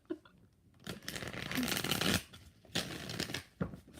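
A deck of tarot cards is shuffled in one long riffling burst followed by two shorter ones, close and fairly loud.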